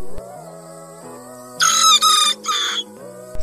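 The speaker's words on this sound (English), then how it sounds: "Even the Serama rooster's crow is somewhat softer than" A small Serama rooster crows in a few bright, broken bursts, softer than larger breeds, over a soft background of sustained musical tones.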